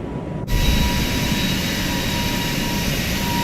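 Airbus A220 jet engines spooling up for takeoff in a flight simulator, a loud steady roar that starts abruptly and holds with a constant high whine over it.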